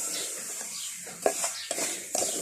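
Grated coconut and semolina roast in a pan for halwa while a spoon stirs continuously, producing a quiet dry sizzle broken by several sharp spoon scrapes and taps against the pan.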